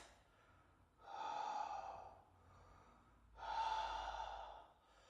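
Two long open-mouthed exhalations during a bioenergetic exercise routine, each a strong breathy rush lasting over a second, with quieter breathing between them, close to the listener.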